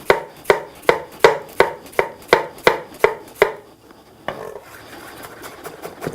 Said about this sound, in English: We also need to chop it.